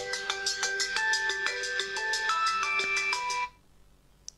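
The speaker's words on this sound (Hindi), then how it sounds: "इसके ऊपर बेल बजना शुरू हो चुकी है" A mobile phone on a surface plays a bright melodic ringtone, loud and close, for about three and a half seconds before it cuts off into near silence.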